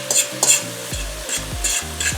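Paprika being stirred into a frying mixture in a pan, with close scraping strokes of a spoon and an underlying sizzle, rhythmic and fairly loud, with no speech.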